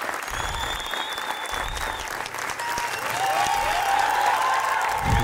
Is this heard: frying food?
no